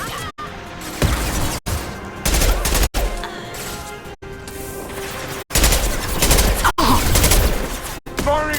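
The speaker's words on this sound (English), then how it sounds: "Firing an impact shot." Impact shots and combat fire from the video game Mass Effect 2: dense, loud bursts of shots and booms that repeat in a rough rhythm, cut by brief silent gaps, with voices talking over the battle.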